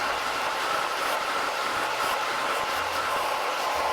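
A blow dryer roars with a steady, loud rush of air as it blows onto hair while styling a blowout, holding an even, continuous tone throughout.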